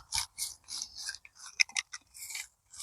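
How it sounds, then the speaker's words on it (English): Scraping on a granite headstone during cleaning: short, light scratchy strokes come in quick bursts with brief pauses, close and fairly quiet, with no voice. "I'm not scraping the stone as hard, so there's no chance of me putting any scratches on the stone"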